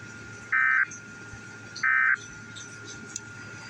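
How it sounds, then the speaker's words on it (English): Two identical Emergency Alert System attention tones, each a steady electronic buzz under a second long, sound about a second apart over a faint background hiss, moderately loud, with no voices. "I activated the EAS just for the new year"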